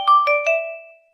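A Xiaomi phone ringtone plays as three quick bright chime notes that ring out and fade over about a second, clean and alone.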